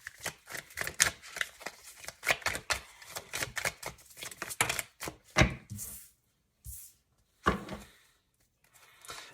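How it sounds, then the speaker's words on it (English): Tarot cards being shuffled and pulled, a dense run of riffling, slapping card sounds that thins into a few separate flicks and taps, close and fairly loud with no speech. "So I'm just going to pull out 2 or 3 more cards,"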